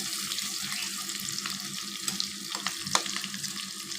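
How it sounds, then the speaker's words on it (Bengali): Chopped green chillies fry in a pan, a steady close sizzle with the occasional scrape of a spatula stirring through the oil. "দিয়ে দেব কিছু কাঁচামরিচ কুচি এটাকেও আমি ভালো করে ভেজে নেব"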